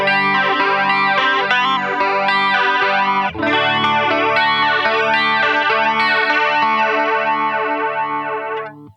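Electric guitar run through a flanger effect on a Line 6 POD Go/Helix, ringing chords with a sweeping, whooshing comb-filter swirl that rises and falls repeatedly, loud and continuous with a restrike partway through, no talking.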